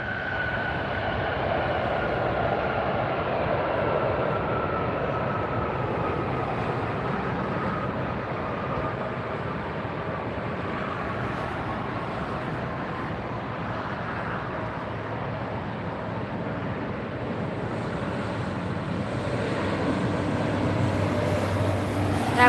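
An ANA passenger jet touching down at LAX airport, heard as a steady loud broadband roar of engines and rushing air that holds for over twenty seconds and swells slightly toward the end, with no talk.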